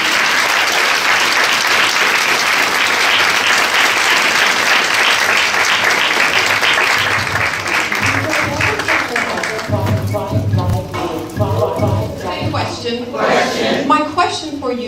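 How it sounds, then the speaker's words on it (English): Sustained audience applause fills a hall for a Women's History Month event as Dr. Christine Guillory walks to the stage, dense and loud at first, then thinning into scattered claps with some crowd murmur toward the end. "Could you please give a round of applause as Dr. Christine Guillory makes her way to the stage."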